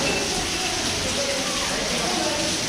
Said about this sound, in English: This is natural seepage running into the mine.